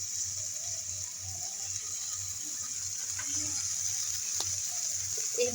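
Snake gourd frying in a pan with grated coconut, salt, turmeric, chilli powder and green chillies produces a steady, even sizzling hiss from start to finish, with faint low rumbling beneath and occasional small crackles.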